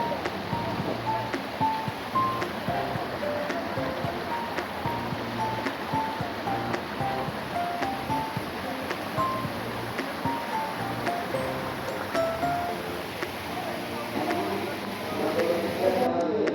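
Madhavkunda waterfall in Bangladesh gives a steady, broad roar of rushing water without break, with faint crowd murmur and scattered voices mixed in behind it.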